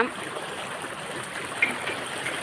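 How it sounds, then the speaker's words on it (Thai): Floodwater runs strongly past a spot near Mata Phut during a severe flood, a steady, even rush of flowing water with no talk over it. "ดูน้ำมันไหล"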